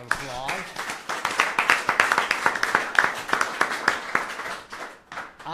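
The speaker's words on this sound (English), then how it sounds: "let's give Andrew a round of applause" A live audience claps for Andrew Hibbard as he is called up at a talk, a dense, steady burst of many hands filling the room, with a voice briefly audible early on.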